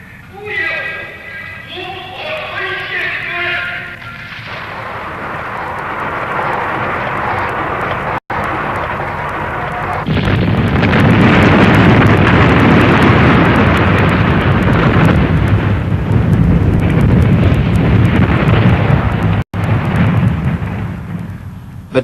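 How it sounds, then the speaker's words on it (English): A nuclear weapon detonation, China's first test, builds from a low rumble into a sustained, loud roaring blast that fills the scene for over ten seconds, with brief voices and tonal sounds before the roar swells. "Yet in 1963, without Russian help, China detonated her first nuclear weapon."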